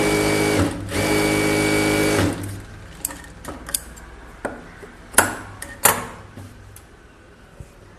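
A sewing machine edge-stitches the lining of a close-neck blouse, running in a steady close whir for about two seconds, then falling into sparse clicks and small knocks as the fabric is handled.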